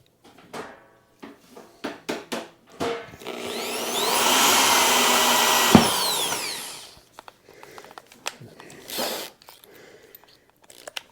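Power drill driving screws into a computer chair, with short bursts of handling and clicks, then a sustained loud whine lasting about three seconds before more clicks and brief drill pulses.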